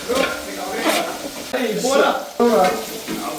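Coriander paste is stirred into onions and green chillies frying in a pan, a continuous sizzle with scraping strokes at a steady rhythm, while a voice talks over it.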